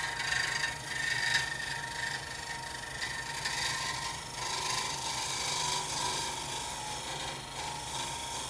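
A hand scraper is drawn gently along a wood surface, lifting shavings with a continuous soft rasping scrape that rises and falls slightly with each stroke, close and unaccompanied by any voice.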